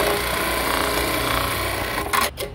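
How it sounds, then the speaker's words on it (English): An Atlas USA AT-1904 bartack sewing machine stitches fabric and Velcro together with a steady, dense mechanical whir that runs continuously up close, then a few sharper clacks as it stops. "now we're gonna sew the material if you want"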